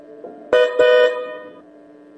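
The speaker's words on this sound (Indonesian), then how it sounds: "Sebuah mobil angkot membunyikan klakson di depan Lupita" An Indonesian angkot minibus honking its horn, two quick blasts close together that trail into a fading tone, then a brief final toot at the end, with no talk.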